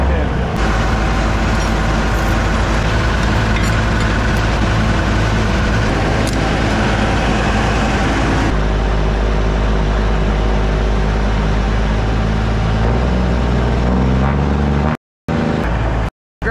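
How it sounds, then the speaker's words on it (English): A 1980 Kenworth digger truck engine runs at a steady, loud low rumble close by for most of the stretch, with a shift in tone partway through before it cuts out briefly near the end. "now we're going to try to use the old digger truck to lift"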